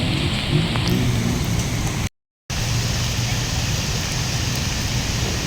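Dense, steady roar of heavy rain pouring down during flooding in Korat, Thailand, with a brief dropout in the middle before the downpour resumes unchanged.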